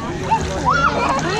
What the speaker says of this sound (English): don't splash the camera.